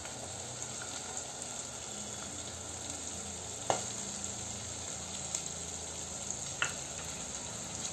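Soaked peanuts fry in a pan for wal papdi rice, a continuous soft sizzle with a few sharp clicks and pops, close but fairly quiet, and no talking.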